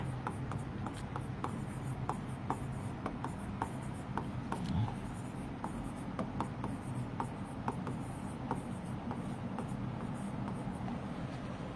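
Chalk or marker taps and scratches across a board during a chemistry lecture, a string of short, sharp strokes over a low steady room hum, faint and close with no talking.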